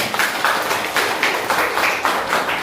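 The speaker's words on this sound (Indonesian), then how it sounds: "Tepuk tangan dulu teman-teman." Students in a high school classroom clapping together in a quick, rhythmic group pattern, the bursts evenly spaced and moderately loud with no talking over them.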